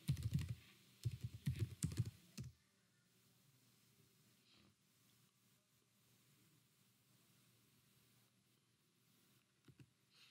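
Rapid clattering keystrokes on a computer keyboard as a username is entered, a dense burst of typing for about two seconds, then near silence with a few faint isolated clicks.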